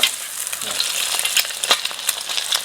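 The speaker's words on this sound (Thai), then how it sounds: "จะทอดแบบกรอบนอกแดงในเยิ้มในเลยนะครับ" Duck eggs deep-fry in hot oil with a dense, close crackling sizzle, punctuated by sharper pops and spatters throughout.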